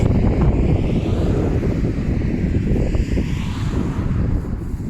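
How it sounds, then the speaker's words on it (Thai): Outdoor wind gusts buffet the microphone in a continuous low rumbling rush, loud and close, rising and easing slightly over a few seconds. "ลมจ้าลมนะ"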